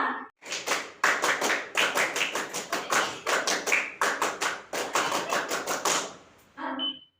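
Rhythmic scout clapping (tepuk pramuka) at a Cub Scout assembly, a loud run of sharp, evenly grouped claps that repeats in quick bursts for several seconds before a brief pause and a short tone.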